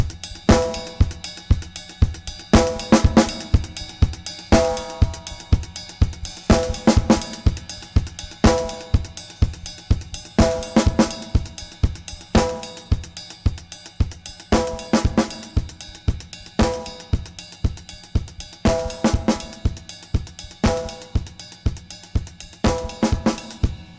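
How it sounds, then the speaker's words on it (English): Drum kit groove with a kick drum on steady quarter notes under a driving hi-hat and ringing ride bell accents, played loud and close in a repeating pattern for the whole stretch. "he's playing quarter notes on the kick drum, so it's that 4 on the floor thing"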